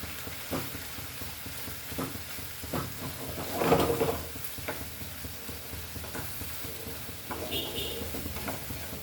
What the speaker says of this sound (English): Now we'll add our onion to this, spring onion or garlic onion or green onions